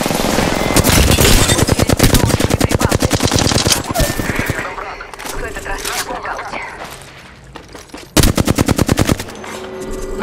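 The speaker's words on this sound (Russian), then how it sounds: "Открываю огонь по врагу." Rapid automatic gunfire from the video game Apex Legends, loud and close, with dense bursts of shots, a brief lull, then another sharp burst near the end, with voices talking underneath.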